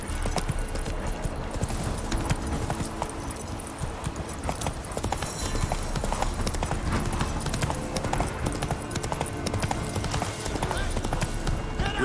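Roach the horse gallops in The Witcher 3, hooves pounding in a fast, steady clip-clop rhythm close by, continuing for the whole stretch with game sounds and some voices mixed underneath.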